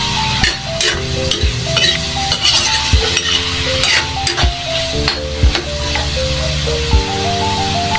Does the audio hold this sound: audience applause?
no